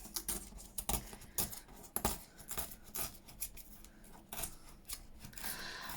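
Paper is torn from an altered book page for a botanical junk journal spread, heard as several sharp ripping bursts and rustles at close range, quiet overall with no talking.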